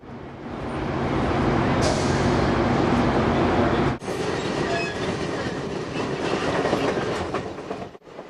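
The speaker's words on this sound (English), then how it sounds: "Passengers wait to board a train on a platform." A moving passenger train rumbles steadily with rhythmic clacking wheels and some metallic squeal, loud and close, with a couple of sharp jolts along the way.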